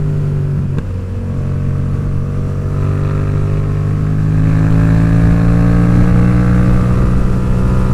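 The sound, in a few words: Yamaha XSR700 motorcycle riding with aftermarket exhaust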